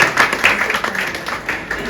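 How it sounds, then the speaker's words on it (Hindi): Audience applause at a birthday poetry tribute ceremony, a dense steady patter of clapping hands filling the whole stretch at moderate loudness. "तालियां।"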